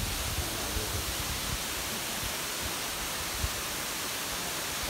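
Catarata Juco de Mastatal, a Costa Rican waterfall, gives a dense, steady broadband rush of falling water, loud and continuous with no voices.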